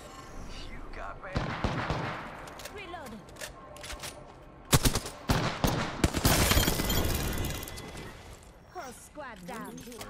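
Rapid gunfire bursts in the video game Apex Legends, loud sharp cracks clustered in the middle with scattered shots before and after, under a player's frequent talking.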